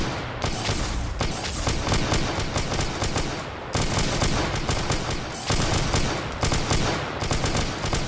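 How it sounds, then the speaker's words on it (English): Sustained AI gunfire in a Warhammer 40k spire-defense battle, dense rapid bursts of automatic fire layered over one another, loud and continuous for several seconds with no talking. "So you hear that bullet, that gunfire, that's the AI actually firing back"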